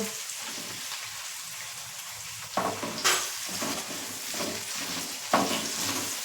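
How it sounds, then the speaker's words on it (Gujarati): Onion and tomato sautéing in a pan over raised heat, a steady close sizzle with occasional stirring scrapes and bursts, no speech. "ગેસ થોડો ફાસ્ટ કરીશું જેથી ડુંગળી જલ્દીથી સોટે થઈ જાય"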